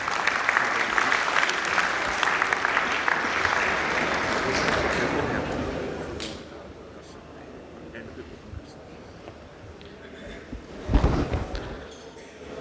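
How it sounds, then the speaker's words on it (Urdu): Audience applause fills the hall at the opening of a national elite boxing championship, dense and sustained for several seconds before fading into quieter room noise, with a short louder burst near the end. "آپ کی تالیوں کی گونج میں"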